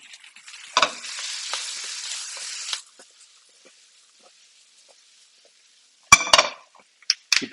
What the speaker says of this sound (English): Keep stirring this other stuff.